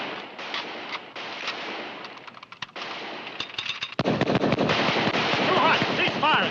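Gunfire erupts in a western TV episode, with scattered shots growing into dense rapid volleys that ring out loud and close, alongside shouting voices.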